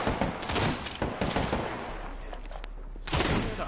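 Dense, rapid automatic gunfire from the Apex Legends battle royale game, heard as a continuous loud fusillade that briefly thins out and then bursts back up, with no talking in the clip.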